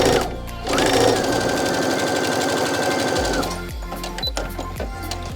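A sewing machine stitches a fabric face mask, switching between straight and zigzag stitches, with a fast loud mechanical whir that shifts into slower, separate thumping stitch cycles toward the end.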